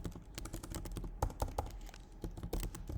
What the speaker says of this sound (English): we can type in our condition directly